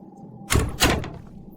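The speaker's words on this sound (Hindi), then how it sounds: "दरवाजा बंद कर, बंद कर।" A door is shut in an indoor room with two quick thuds about a quarter second apart, the second firmer, over a faint background hum.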